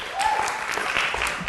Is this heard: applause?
yes